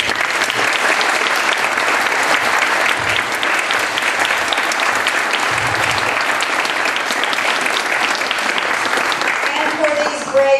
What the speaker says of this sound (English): I want to ask for your applause first for the sponsors of the forum.